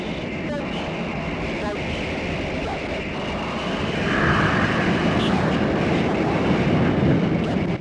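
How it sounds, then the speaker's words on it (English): Red Arrows jets pulling a sharp high-G Vixen brake manoeuvre at an air display, a steady loud roar of jet engines that swells louder midway and holds, with faint voices underneath. "as we come down the bottom of this manoeuvre, we perform the Vixen brake, which is a quick snatch to about 7G for all of us"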